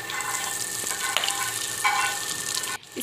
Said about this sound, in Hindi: तो इसको हम कम ऑयल में ही फ्राई करेंगे।